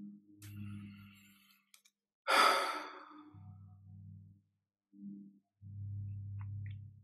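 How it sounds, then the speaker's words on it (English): A deep exhalation during a guided breathing exercise, one long breathy sigh out in the middle, set between stretches of low hum and quieter breathing, close and alone with no talk. "breathe out that deep"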